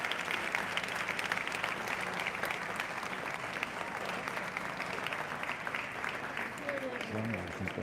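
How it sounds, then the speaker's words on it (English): Steady audience applause for a community choir at a gathering in Glendale, continuous at moderate level, with a voice beginning to speak near the end. "Please give another round of applause for the Hamaynkային Nigerian choir under the direction of Lucine Melissetyan"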